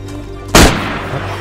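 A single loud shotgun blast goes off in DayZ on the Livonia map, a sharp close crack that decays quickly into a short rumbling tail over a low background hum.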